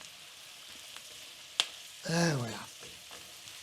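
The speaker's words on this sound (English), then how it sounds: "we cook these for 3 minutes now, mixed in with the onion and pepper, and you can hear them sizzling away" Quartered mushrooms sizzle in a pan alongside onion and pepper, a faint steady frying hiss with a sharp tap and a brief louder stirring swell in the middle, and a voice speaks briefly.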